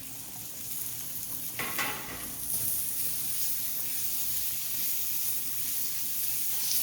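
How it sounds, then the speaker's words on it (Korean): Onions and meat stir-fry together in a pan while Japanese cream curry udon is being made. A steady, close hiss and sizzle runs the whole time, with a few brief clatters of stirring and no talk. "양파가 어느 정도 됐으면 고기를 넣고 같이 좀 더 볶아주세요."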